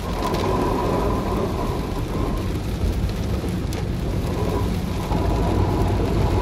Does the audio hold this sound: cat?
no